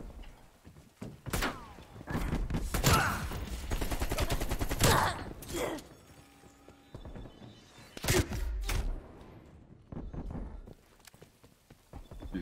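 Gunfire in a Call of Duty gun game match, bursts of rapid shots and single sharp cracks scattered across the stretch with quieter gaps and faint game sounds in between.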